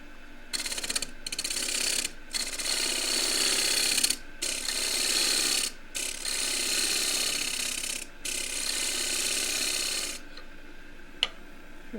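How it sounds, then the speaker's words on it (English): Half-inch bowl gouge shearing the foot of a wooden bowl on a lathe, making a fine, hissing scrape in bursts that are broken by short silent gaps, close and moderately loud, fading near the end. "I'm going to take the foot away with the left wing of the 1/2 inch bowl gouge"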